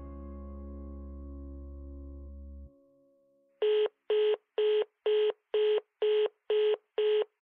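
A landline telephone gives a steady dial tone that cuts off, then after a short pause eight evenly spaced keypad beeps sound one after another, clear and alone.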